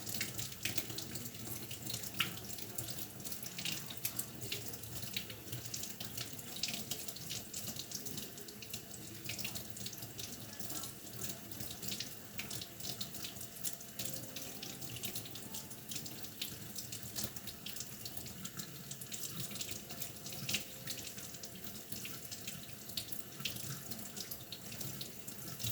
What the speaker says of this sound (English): don't let me forget to wash this. Wash off my leaves.